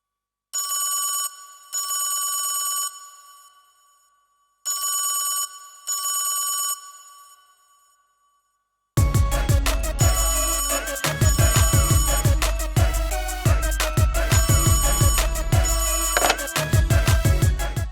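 An unanswered telephone rings in bursts of two rings, repeated twice, each loud and clear against silence. Loud dramatic music with heavy beats then takes over.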